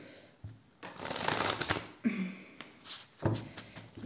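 Oracle cards being shuffled by hand, close papery riffles and flutters in a few bursts with brief slaps as the deck is handled, no talking.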